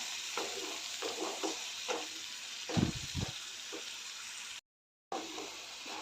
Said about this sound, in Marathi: ग्रेव्ही घालून चांगला परतून घेऊया तेल सुटेपर्यंत चांगलं परतून घ्यायचं आहे